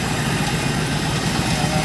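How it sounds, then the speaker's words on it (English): An antique Massey Harris tractor runs at a steam show, its engine giving a steady, close, low rumble with no talking over it. "he's got this Massey Harris running here"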